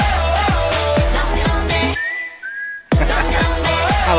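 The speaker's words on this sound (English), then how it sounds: "We got a chant, we got whistling." A clear whistled melody rings out over a dropped-out beat in a song, two rising whistle phrases in a short gap between thumping music.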